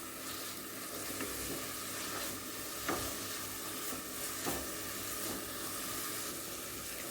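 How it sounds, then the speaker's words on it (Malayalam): Chopped ginger sautéing in a pan, with a steady soft sizzle and occasional scrapes of stirring, fairly quiet and continuous with no talk. "ഇതെല്ലാം ഒന്നിച്ചിട്ട് നന്നായിട്ടൊന്ന് വഴറ്റി എടുക്കട്ടെ"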